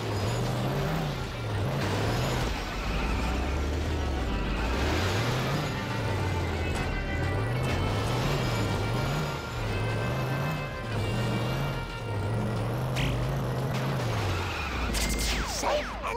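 Marge's car driving in The Simpsons: Road Rage, a steady looping engine drone with rising and falling pitch, heavy game music and effects layered over it, loud and continuous.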